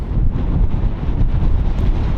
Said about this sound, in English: Hopefully you can even hear me, but it's super windy.